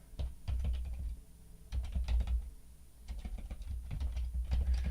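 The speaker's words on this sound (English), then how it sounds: "let me type it in here so you can see what I'm talking about" Close, clattering keystrokes on a computer keyboard come in quick irregular bursts with brief pauses between runs of typing.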